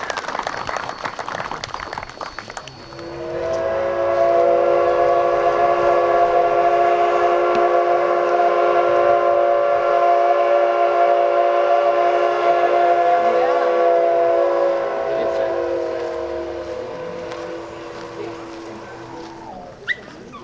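Cumbres & Toltec Scenic Railroad train on opening day, sounding a long, steady, chord-like whistle for about twelve seconds amid crowd noise, then fading out.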